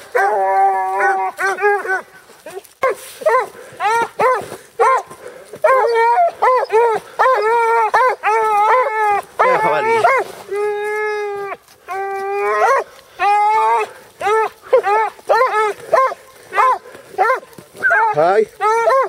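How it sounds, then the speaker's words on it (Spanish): A puppy barks and yelps repeatedly in rapid, high-pitched bursts, close by, breaking into longer howling whines, outdoors during a wild boar hunt. "El cachorro de David."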